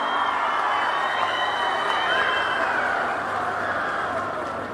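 Dense, steady crowd clapping and cheering at a Swachh Andhra anti-plastic event with Chief Minister Chandrababu, a continuous wash of applause held at full strength throughout.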